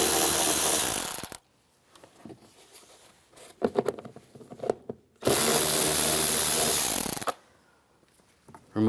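A power drill spins out the two lower screws of a 2011-2019 Ford Explorer driver door panel with a 7mm socket, two loud whirring bursts of about a second and two seconds separated by quiet handling clatter.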